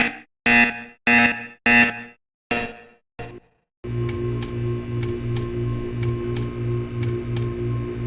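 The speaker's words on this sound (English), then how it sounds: "You will hear a buzzer." In the video game Portal 2, a series of separate loud electronic tones gives way to a sustained rhythmic buzzer pulsing evenly with repeated ticking clicks, loud and alone.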